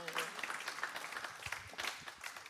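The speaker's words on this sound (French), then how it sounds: "On peut applaudir aussi Magline" An audience at an evening event applauds in a ragged, moderate burst of clapping with a few louder peaks, heard fairly faintly while a voice briefly overlaps at the start.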